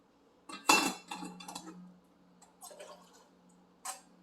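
Soaked smoothie ingredients drained in a kitchen: a sharp clatter of a metal strainer or dish, a few clinks and splashes of water, then quiet dripping and one last clink, close and fairly loud.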